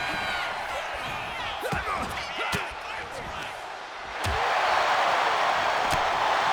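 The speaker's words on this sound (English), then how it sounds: "The crowd's going crazy right now." Roaring video game wrestling crowd from WWE 2K25 cheers loudly and steadily, swelling louder midway, with sharp slams and impacts of a match under commentary speech.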